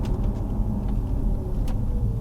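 An Audi C5 RS6 with a chain tensioner problem idles in gear while driving, a steady low engine rumble heard from inside the car with no talk.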